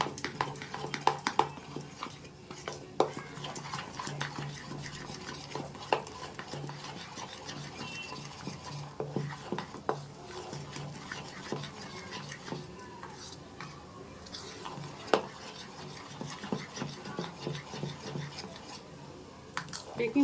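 Baking powder being stirred into semolina batter in a bowl for steamed pitha, with repeated scraping and tapping of a spoon against the bowl in an uneven rhythm, close and moderately loud.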